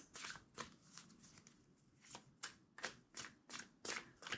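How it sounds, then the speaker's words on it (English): A deck of tarot cards is shuffled by hand in a quiet room, a run of quick, close riffling bursts in an uneven rhythm, soft and crisp, with no talking. "Two more shuffles."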